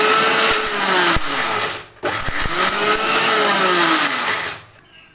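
A mixer grinder whirs loudly while grinding keerai thuvaiyal, a leafy green chutney, in short bursts: a steady high motor whine that pauses briefly, restarts, and cuts off near the end.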